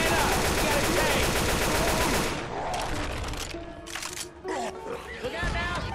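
Dense rapid gunfire from Left 4 Dead 2 with players firing at the Tank, loud continuous bursts for about two seconds, then scattered shots and clatter in the game.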